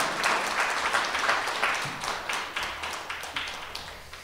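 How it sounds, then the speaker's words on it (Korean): Audience applause at a Korean lecture event: steady, dense clapping from a seated crowd filling the room, even in loudness throughout with no voices over it. "박수 한번 드릴까요?"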